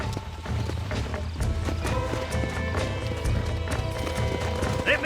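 Horses gallop in the Red Dead Redemption video game, their hooves clip-clopping in a steady rapid rhythm under in-game music, with a short neigh near the end and some speech.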